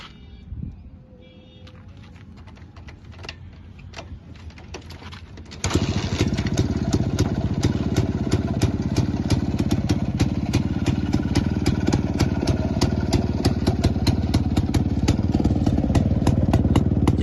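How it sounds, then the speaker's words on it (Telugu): A 1973 Jawa motorcycle fires on a single kick after a few quiet seconds, then settles into a loud, steady, clattering two-stroke idle up close, with no talking over it. "సింగిల్ కిక్ అయితే స్టార్ట్ అయిపోయింది బైక్."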